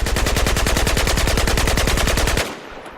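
A fast automatic weapon fires a sustained burst of about thirty evenly spaced, punchy shots in a shooting video game with recoil control, loud and close, then cuts off abruptly into a faint tail.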